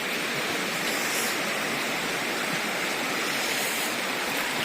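A waterfall stream near a temple rushes in a steady, dense broadband roar, close and continuous without pause.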